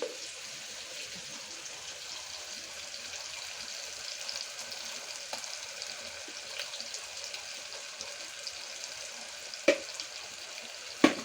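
Onion, green chilli and ginger-garlic paste frying for a spicy gongura mutton curry, a faint, even hiss that runs throughout with a couple of brief clinks near the end, and no voices.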